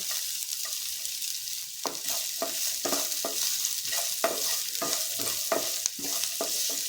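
Finely chopped capsicum with ginger, garlic and green chili sautés in a pan over low heat, giving a steady close sizzle broken by rhythmic scrapes of a stirring spoon, with no talking.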